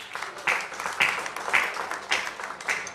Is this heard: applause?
yes